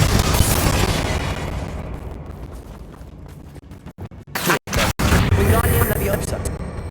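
Confringo blasting spell explosions in Hogwarts Legacy, heard as loud booming blasts and crackling bursts over a dense game soundscape, with a few abrupt cuts and bangs near the end and a voice speaking.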